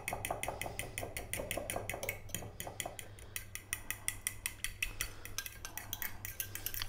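Fork whisking a Dijon vinaigrette in a bowl, rapid rhythmic clinking taps of metal on the dish, faint and close, with no talking.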